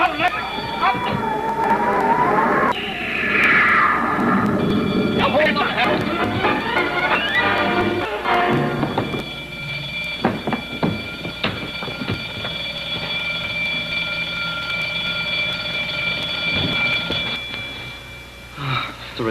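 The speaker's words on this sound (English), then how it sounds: "The alarm." An alarm going off during a bank robbery in a space adventure drama, ringing loudly and continuously under overlapping voices and other commotion for the whole stretch.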